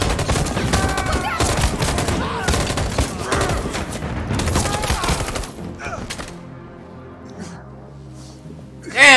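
Gunfire in the video game Detroit: Become Human, a rapid dense volley of shots over loud game music and action for several seconds, then quieter tonal music with a sharp burst at the end.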